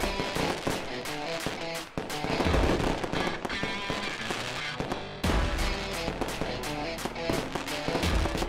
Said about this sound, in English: Let's look at some fireworks.